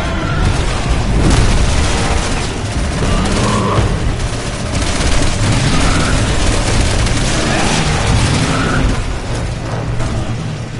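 Dense, loud gunfire and booming explosions from the video game Resident Evil 6, with rapid bursts and heavy blasts overlapping continuously across the whole stretch.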